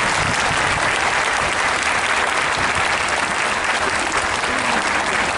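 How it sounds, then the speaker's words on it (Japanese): Sustained, dense applause from the audience at a women's collegiate ekiden relay ceremony, honoring stage-winning runners; loud, steady clapping throughout with no talk over it. "改めまして区間賞を獲得した選手に大きな拍手をお願いいたします。"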